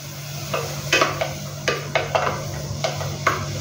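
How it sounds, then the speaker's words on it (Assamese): Onions with cumin in a little mustard oil are stirred in a pan, giving repeated scraping and clinking strokes of a spatula against the metal over a low steady sizzle, with no talk. "ইয়াতে দিলোঁ পিঁয়াজ, দি গোটেইখিনি ভালদৰে লৰাই দিছোঁ।"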